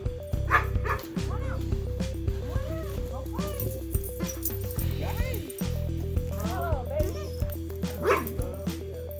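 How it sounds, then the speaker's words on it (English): Large dog in a motorcycle restoration shop, barking repeatedly and whimpering in yips over a steady low mechanical hum, close and fairly loud. "Y'all remember Shop Dog? She's gotten slightly larger."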